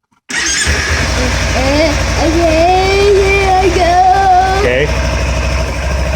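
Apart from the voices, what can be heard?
Kawasaki Ninja 300 motorcycle engine starting and idling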